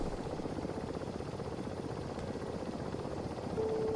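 Helicopter in a video game flying low, a steady close rotor thump and engine whine that runs continuously throughout.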